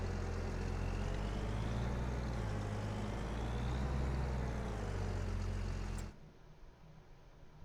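Trucks and cars idle and rumble in a traffic jam in Farming Simulator 25, a steady low engine drone with faint air-brake hiss that cuts off abruptly near the end.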